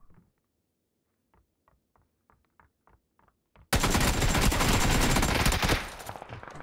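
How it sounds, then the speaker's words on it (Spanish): Video game gunfire, likely PUBG, starts suddenly as a loud, dense automatic burst after quiet faint clicks and footsteps, sustaining for about two seconds before tapering off. "espera, yo empiezo a disparar"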